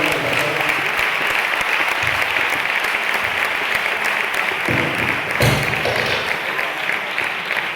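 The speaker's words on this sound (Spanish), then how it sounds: "¿Puedes darle un fuerte aplauso a la maravillosa persona?" Loud, continuous audience applause with dense clapping throughout and a few thumps near the end.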